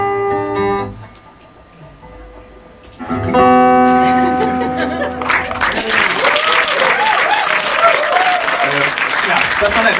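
An audience at a live stage show in a Berlin theatre bursts into loud, sustained applause after a spoken and sung passage, with a voice heard before the clapping.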